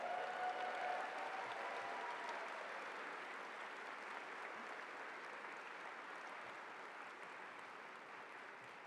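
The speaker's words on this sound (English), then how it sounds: "you need a bigger applause for this next individual" Distant applause from a university convocation audience, a faint, even wash of clapping that holds steady throughout with no voices over it.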